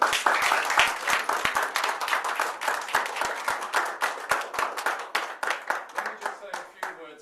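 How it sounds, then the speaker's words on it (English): An audience at a book launch claps in a round of applause, individual hand claps distinct and fairly close, starting strong and thinning out over about seven seconds. "Please give these people a round of applause."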